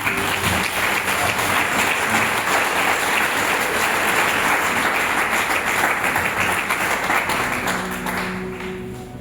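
An audience at an indoor spiritual retreat applauds in a loud, dense burst of many hands clapping that holds steady and then begins to fade near the end; no talking.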